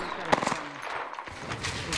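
Gunfire from the Apex Legends battle royale game, a short rapid burst of automatic shots, close and sharp, followed by scattered further cracks within two seconds.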